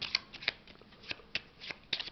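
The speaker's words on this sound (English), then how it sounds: "Shuffle the starting combat cards and place them in a deck face down on the combat deck board" A deck of combat cards for the Sleeping Gods board game is shuffled close by, quiet crisp riffling snaps repeating in quick irregular bursts about every quarter to half second.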